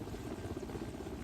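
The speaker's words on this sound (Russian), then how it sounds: "вертолет замирает над аэродромом" A Mi-8 helicopter hovering over an airfield during a rescue drill, its rotor and turbine making a steady, thick, throbbing drone that holds evenly throughout, with no voices.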